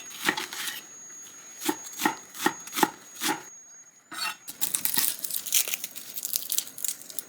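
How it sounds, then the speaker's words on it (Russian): Knife chopping shallot, garlic and red chili pepper on a board, a run of crisp, close cuts in an uneven rhythm, then a brief pause followed by quicker, busier scraping and chopping. "Нарежу шалот и чеснок, ну и красный перчик."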